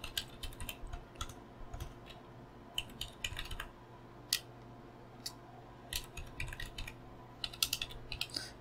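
Router username and password being typed on a computer keyboard: irregular bursts of sharp key clicks with brief pauses, steady low room hum underneath, no talking.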